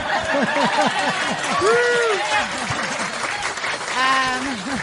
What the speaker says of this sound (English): They're clapping because they want to see you kiss.